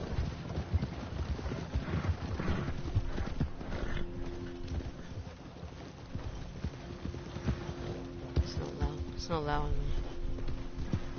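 Horse hooves clip-clop steadily in Red Dead Redemption 2, a continuous walking rhythm under a player's talk and light wind-like game ambience.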